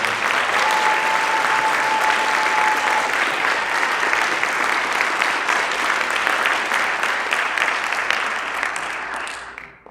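A high school wind ensemble's spring concert crowd gives seniors a round of applause, a loud, dense, sustained clapping that holds steady for several seconds before fading out at the end.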